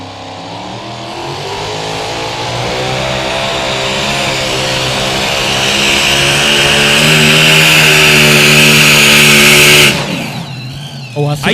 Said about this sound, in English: Last preparation on the engine.